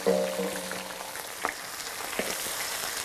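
Ginger dropped into hot oil in a wok gives a soft, crackling sizzle with a few scattered pops, close but fairly quiet, and there is no talking.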